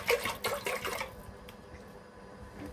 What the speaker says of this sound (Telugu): ఇందులో వాటర్ పోసుకోవాలి మనం